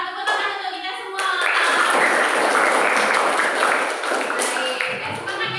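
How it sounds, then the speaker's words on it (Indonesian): A group of teachers in a training session claps together in a burst of applause lasting a few seconds, close and lively, with speech heard just before and after. "Tepuk tangan untuk kita semua."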